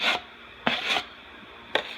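A tool scrapes drywall compound off a wall in three short, rasping strokes with pauses between them, close and fairly loud.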